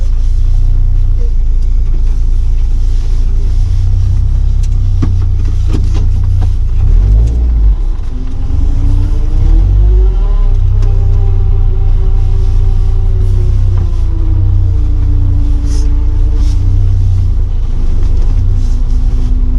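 A Lotus sports car rolls along slowly on the road with a loud, steady low engine rumble and a gentle rise in pitch midway as it picks up a little speed.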